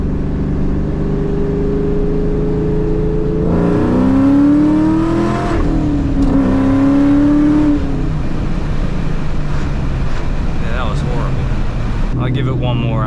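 A loud Ford Mustang Cobra engine revs hard during power-shifting practice in the 2-3 shift, heard from inside the car with a sharp rising rev, brief drop at the shift, then strong pull and engine drone.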